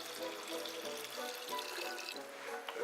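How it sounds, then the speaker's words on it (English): Whiskey is poured into a glass in a foley performance, a short trickling, gurgling stream of liquid filling the glass, close and quiet. "He poured me a tall one."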